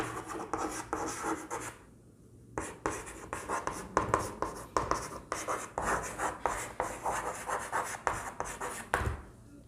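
Marker or chalk writing on a board during a history lecture, a run of quick rhythmic strokes and scratches with a brief pause, close and fairly quiet, with no talking.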